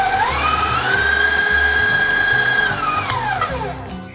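An electric mixer whirs through white sheet cake batter with sugar, its motor pitch climbing as the speed is cranked up, holding a loud steady whine, then winding down near the end.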